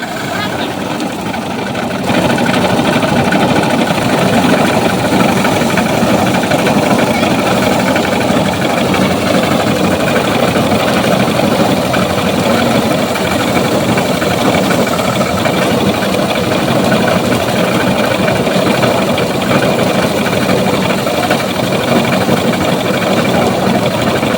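An engine-driven paddy threshing machine runs steadily as rice is threshed in a village setting, a loud continuous droning rumble and clatter that persists throughout, with voices talking over it.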